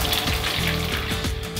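Food deep frying in hot oil until crispy and golden brown gives off a steady, loud, dense sizzle and bubbling hiss throughout, with no voices.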